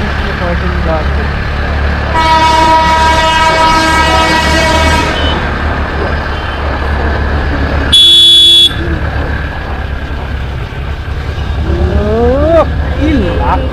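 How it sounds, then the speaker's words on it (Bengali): The Darjeeling toy train sounds its horn beside the hill cart road near Kurseong: a long, steady tonal blast, then a shorter, sharper toot. Both sit over constant road rumble while people talk. "আরো এগুলো বানিয়ে টয় ট্রেন যাচ্ছে।"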